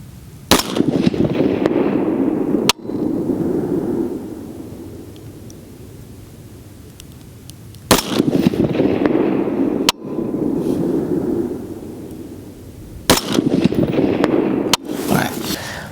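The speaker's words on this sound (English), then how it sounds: "I'm going to shoot on the blue silhouette out there at 3" Carbine rifle shots at an outdoor shooting range: several sharp, loud cracks spaced seconds apart, each followed by a rolling echo and wind-like rumble, with someone talking in between.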